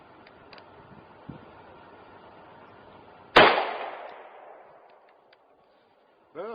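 A single sharp, loud gunshot from a Ruger LCR revolver fired at a target, with a ringing decay of about a second afterward, preceded by faint low background noise and quiet movement.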